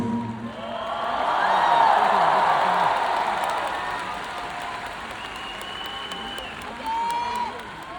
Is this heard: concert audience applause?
yes